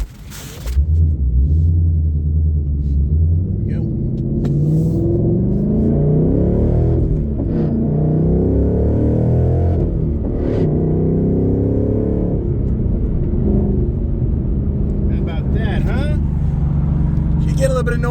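A Ford Mustang engine rumbles deeply up close, then rises and pulls away as the car takes off; someone talks over the noise for most of the stretch.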